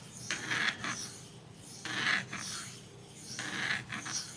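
A blade is sharpened on a metallic bonded diamond stone, making soft, close rasping strokes that repeat three times at an even, unhurried rhythm.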